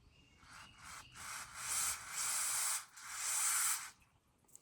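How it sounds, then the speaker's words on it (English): Carb cleaner or brake cleaner sprays onto a carburetor in several short hissing bursts, close and fairly quiet, the last one the longest. "So you just take your carb clean or brake clean."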